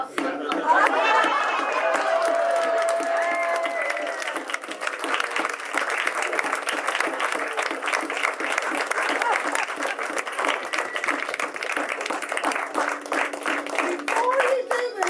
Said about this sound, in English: I think we all need to get up and give a real hand of applause to Gary for putting this on